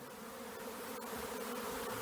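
Honeybees in a swarm around a beekeeper's hives, a continuous low droning buzz heard from a short distance, steady and fairly quiet with no voices.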